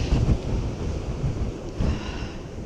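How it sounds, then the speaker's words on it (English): Strong gusty wind on a Welsh coastal walk, buffeting the microphone in loud rumbling bursts over a continuous roar, with surf faintly mixed in. "As I say, it is really blowy."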